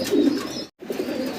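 Pigeons at a pigeon farm coo in soft, throaty bursts close by, with a brief silent break midway before the cooing resumes.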